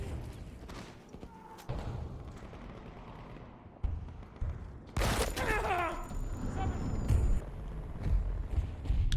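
Rapid SMG fire in the Battlefield 2042 beta, a dense loud burst of shots with mechanical clatter mixed into busy game noise.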